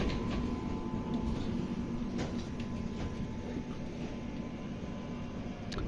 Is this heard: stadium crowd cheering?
no